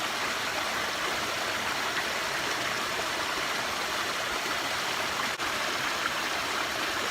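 River water pours steadily into a river pool, a broad continuous rushing and gurgling at close range with no voices.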